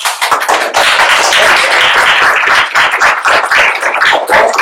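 An audience in a lecture hall on neuroplasticity claps loudly and close for several seconds. The dense, irregular patter stays sustained, then begins to thin out at the end.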